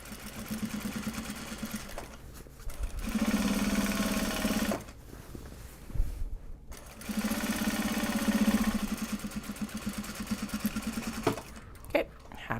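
Sewing machine stitching a Japanese fabric project bag, running in two steady whirring bursts of rapid stitching separated by pauses with handling clicks, close and clear with light talk in between.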